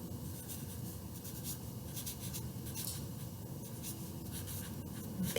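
A pen scratches and scribbles across paper while notes on an egg soaked in vinegar are handwritten, a faint continuous close rubbing with small strokes and pauses, quiet and without speech.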